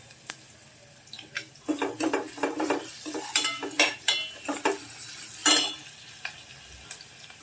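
Ginger-garlic paste hitting hot oil in a pan while making chole paneer, bursts of sizzling and frying with scraping stirs and light clinks of a spoon on the pan, close and rising and falling.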